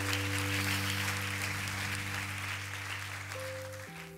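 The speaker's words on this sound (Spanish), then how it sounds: "esos 30 aplaudan a Dios." A congregation applauds steadily throughout a church service, the clapping softening slightly toward the end while sustained organ-like keyboard chords ring beneath and shift near the close.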